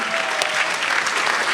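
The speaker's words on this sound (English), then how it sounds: "Let's have a big round of applause so she has a round of applause when she's back." A crowd at a political event breaks into a big round of applause, a thick, continuous patter of many hands, loud and close, with no speech over it.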